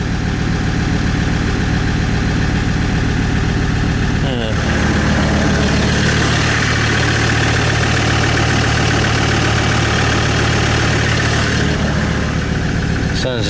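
An engine idling roughly with a lumpy, uneven note, running continuously and close for over ten seconds, with a brief clunk or shift in tone partway through and no talking.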